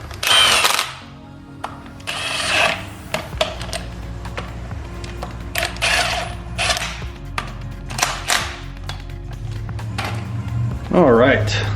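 A handheld power tool drives bolts into a car's differential cover, giving short repeated bursts of whirring and rattling separated by pauses, with a person talking in between.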